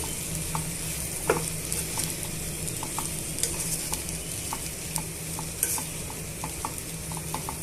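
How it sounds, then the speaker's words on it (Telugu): Okra, tomato, onion and green chili frying together in a pan, a continuous close sizzle broken by scattered light taps and scrapes of a stirring spoon against the pan. "ఇలా ఒక నిమిషం వేయించేసుకుందామండి"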